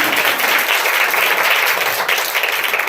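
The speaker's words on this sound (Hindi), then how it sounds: "जितने जन परमेश्वर में आनंदित हैं जोरदार तालियों से परमेश्वर का धन्यवाद करें।" A church congregation at a Sunday prayer meeting claps loudly and steadily for the full stretch, a dense, close wash of applause with no pause.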